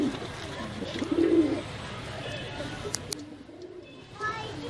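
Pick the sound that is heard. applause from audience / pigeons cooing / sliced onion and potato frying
pigeons cooing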